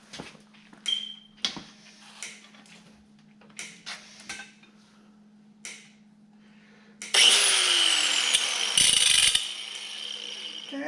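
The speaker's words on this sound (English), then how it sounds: "we're just gonna grind her down" Power grinder grinding down a protruding cam dowel pin during an LT-1 engine rebuild, a loud sustained whine near the end after scattered clinks and handling noises of the work.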